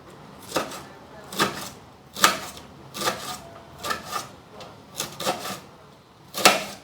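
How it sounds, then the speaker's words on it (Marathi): Knife chopping onion and cabbage on a board: repeated sharp cutting strokes at an uneven pace, about nine separate chops, close and moderately loud with nothing else over them. "आता मी कांदा आणि हे कोबी असा चिरला"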